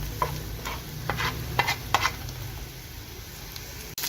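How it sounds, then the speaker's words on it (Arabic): Carrots sautéing lightly in a pan, a soft sizzle under several close stirring scrapes and taps in the first half, then a quieter steady fry. "نزلنا بالجزر اهو، وهنديله برضو ايه تحميره خفيفه"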